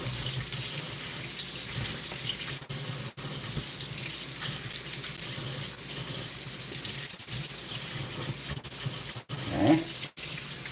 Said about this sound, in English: So we'll go ahead and give these a rinse. Just cold water.